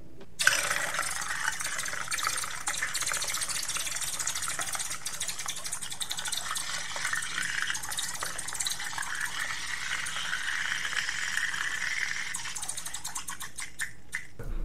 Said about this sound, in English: Once it all melted, I poured it in the beaker filled with water